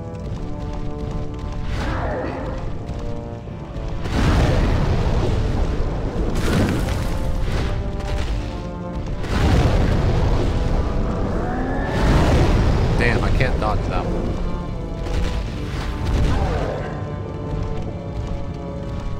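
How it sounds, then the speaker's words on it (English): Explosions in the video game Demon's Souls: several loud booming blasts recur every few seconds over a continuous rumbling game soundtrack, the strongest bursts around the middle and latter part. "Explodey thing."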